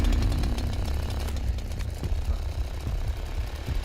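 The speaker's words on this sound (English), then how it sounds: "Clown with chainsaw." A chainsaw revs in a stealth and survival video game trailer, a harsh continuous engine snarl with rising and falling throttle under a dense, noisy mix, steady and loud throughout.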